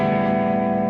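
A guitar through a tube-screamer-style boost pedal sounds a sustained, lightly overdriven chord with echo and reverb, held evenly and loud for about a second with no voices.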